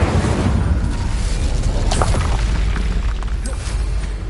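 Incendio fire spell cast in Hogwarts Legacy, a dense roaring whoosh of flame with a booming burst underneath, loud and continuous for about four seconds.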